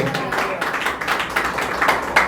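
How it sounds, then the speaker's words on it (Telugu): A church congregation claps hands together in a sustained, even burst of many overlapping claps, steady and fairly loud throughout, with a faint voice underneath. "చప్పట్లు కట్టాలి"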